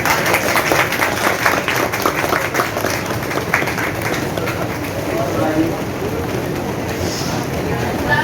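A crowd at a group gathering in a Juhu garden breaks into loud, dense applause, a thick continuous patter of many hands that stays strong and gradually softens, with voices mixed in.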